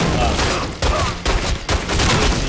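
Enemy gunfire in The Godfather II, loud, rapid bursts of shots in several volleys separated by brief gaps.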